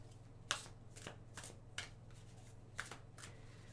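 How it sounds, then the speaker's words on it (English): A deck of Moonology Oracle cards being shuffled, several quick riffling bursts repeating at a steady pace over a low background hum. "Just give me a minute to shuffle these."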